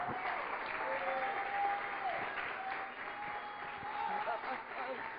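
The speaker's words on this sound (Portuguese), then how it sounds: "A igreja crê assim, aplaude ao Senhor dos Exércitos." A church congregation claps together in sustained, fairly quiet applause, an even rippling wash across the whole stretch with voices faintly mixed in.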